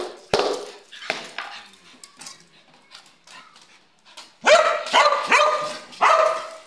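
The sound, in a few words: pet dog barking and growling at feeding time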